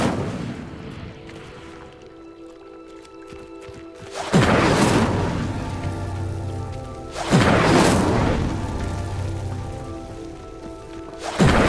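An Incendio fire spell in Hogwarts Legacy erupts in two loud whooshing bursts a few seconds apart, each flaring suddenly and then trailing off into a crackling roar.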